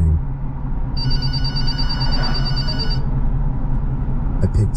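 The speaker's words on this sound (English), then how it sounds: "About an hour later, the phone on the counter rang." Telephone on a counter ringing with a bright electronic trill that lasts about two seconds over a steady rumbling drone, with speech in the background.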